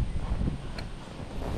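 Strong wind blowing across a farm field in San Antonio, Nueva Ecija, a loud, low, rumbling buffet against the microphone that gusts unevenly throughout, with a short faint tone partway through.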